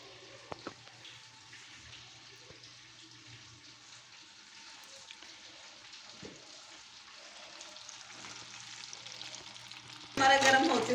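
Nuts fry in a generous pool of hot ghee in a kadhai, a soft, steady sizzle with a few light utensil taps, turning into a louder splashy burst at the very end.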